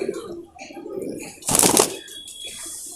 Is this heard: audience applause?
no